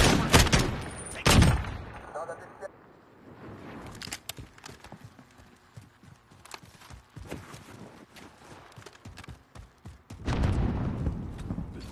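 Gunfire in the video game Call of Duty Modern Warfare, loud bursts of shots at the start and end with scattered quieter rapid shots and footsteps between, mixed with game radio voices.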